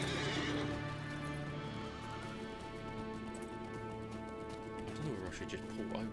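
A horse in a video game whinnies loudly at the start, then hooves clip-clop steadily beneath someone talking, with a second whinny near the end.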